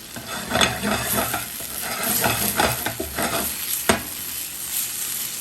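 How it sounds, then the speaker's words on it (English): Butter swirled into a shrimp sauce in a hot pan gives a steady sizzle with scraping stirring strokes and a sharp utensil tap near the end, close and continuous without talk. "I'm just going to incorporate a little more butter just to get my little residual sauce right here going and swirl it in"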